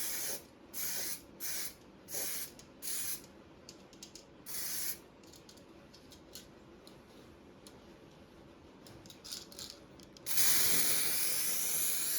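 Short rattle-can bursts of spray paint on a Range Rover tailgate, several quick hisses in a row, then a long steady hiss near the end, close and fairly loud with no talk.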